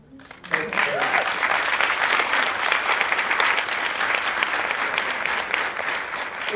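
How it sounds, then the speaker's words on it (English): An audience breaks into loud, continuous applause for awardees at a community partnership awards ceremony, starting sharply after a brief voice and holding steady to the end. "Please give a round of applause to all of our awardees"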